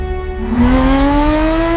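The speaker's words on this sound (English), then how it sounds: "The engine roars to life." A car engine roars to life and revs, its loud, steady drone climbing steadily in pitch, heard close and alone.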